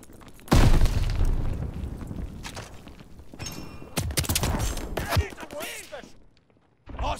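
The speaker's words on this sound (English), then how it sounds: "Tossing grenade." A grenade blast in Call of Duty: Vanguard lands as a heavy boom near the start, followed by scattered gunfire and bursts of shots amid game voice chatter, then a brief lull and another sharp report at the end.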